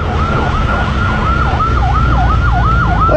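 Ambulance siren wailing in a steady repeating up-and-down pattern, loud and close, over engine and traffic rumble.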